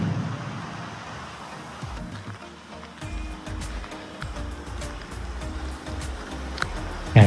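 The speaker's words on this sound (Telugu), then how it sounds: "చూడండి ఎన్ని వాటర్ వస్తున్నాయి ఇక్కడ, కంటిన్యూస్ ఇది ఫ్లో నడుస్తూనే ఉంటుంది" Water flowing steadily near Mahavatar Babaji cave in the Himalayan foothills, a continuous broadband rush with a low rumble underneath, moderately loud and unbroken throughout.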